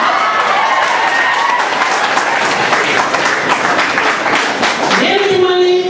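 A live audience claps steadily and loudly at a Telugu talk, a dense continuous patter of many hands that runs the whole time, with a raised voice cutting through near the end.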